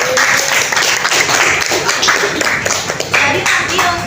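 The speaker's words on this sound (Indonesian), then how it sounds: "Tepuk tangan dulu untuk kelompok 3." A classroom full of students applauds group 3, giving a burst of loud, dense hand-clapping lasting a few seconds, with some voices mixed in.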